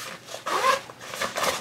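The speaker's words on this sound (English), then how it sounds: "these are durable RC class YKK zippers" A few short pulls of a YKK zipper on a backpack pocket rasp close up, quick scratchy strokes separated by brief pauses.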